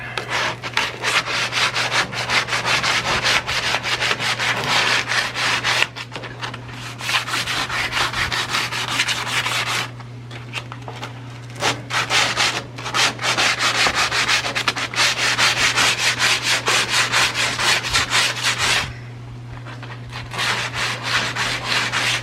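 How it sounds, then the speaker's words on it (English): Body filler on a rusty Dodge drip rail is sanded by hand with steady back-and-forth rasping strokes, close and continuous, with a few brief pauses and a low steady hum underneath, and nobody speaking. "I just got to sand it out"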